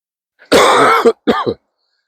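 An older person in winter coughs near the microphone with a chesty, throaty cough: one long harsh burst, then two shorter ones, loud and alone.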